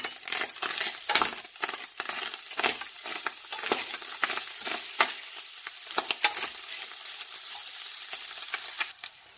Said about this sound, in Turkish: Kıymamız tamamen kavruldu. Üzerine katı yağımı ekliyorum.